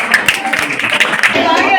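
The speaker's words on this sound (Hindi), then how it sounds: "एक बार जोरदार ताली बजाइए।" A short burst of hand clapping from students and visitors at a school science exhibition, a quick patter of claps heard near.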